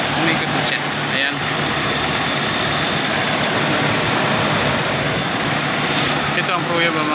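A car's auxiliary fan spins steadily at close range, giving a loud, continuous whooshing roar that holds without a break.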